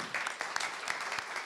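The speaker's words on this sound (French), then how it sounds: "Vous pouvez aussi les applaudir" An audience at a press conference applauds start-up founders, a steady patter of many hands clapping with a few sharper individual claps standing out.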